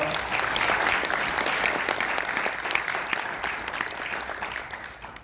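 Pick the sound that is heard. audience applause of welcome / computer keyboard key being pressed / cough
audience applause of welcome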